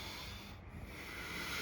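Steady abrasive scraping during a kitchen renovation, a continuous rough rasp that holds close and even throughout with no talk over it.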